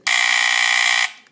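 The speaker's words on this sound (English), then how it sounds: "that's when the smoke alarm went off" A FireX FXW 1 smoke alarm, mounted on a wire mold back box, blares a loud, steady electronic alarm tone continuously for about a second, then cuts off abruptly with a short fading tail.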